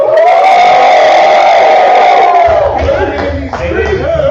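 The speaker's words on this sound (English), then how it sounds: "We got a nice little crowd." A small outdoor crowd at a live podcast lets out a sustained cheer and whoop that fades after a couple of seconds into scattered voices and background noise.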